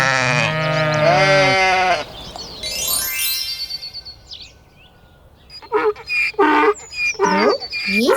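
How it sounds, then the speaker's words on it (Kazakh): A sheep bleats loudly in a run of wavering, quavering calls, falls quiet for a few seconds, then bleats again several times close by. "Қой."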